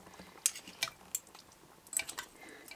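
A utensil breaking apart tender pulled pork in sauce, giving soft squelching stirs and a few sharp metallic clinks against the pot, quiet and close, in irregular bursts.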